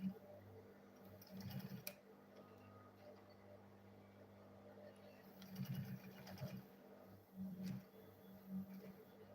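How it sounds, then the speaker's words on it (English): Sewing machine runs faintly in short stitching bursts along the side of a school bag, with a voice talking quietly in the background between runs. "Then I'll go ahead and sew this remaining side."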